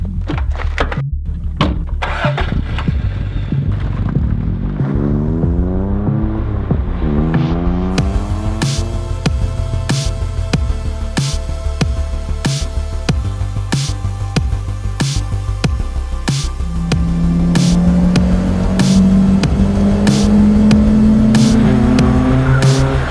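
A 1988 Chevrolet Nova Twin Cam engine cranks with a few sharp clicks, fires up and runs, then revs repeatedly, its pitch climbing and falling before settling into a louder, steady idle close by.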